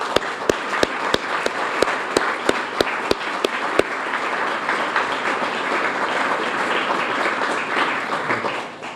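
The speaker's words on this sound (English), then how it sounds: "I'm wondering if we couldn't just give those folks a round of applause." An audience at an annual 2017 economic development meeting breaks into applause, opening with a few distinct sharp claps before swelling into dense, sustained clapping that carries steadily through to the end.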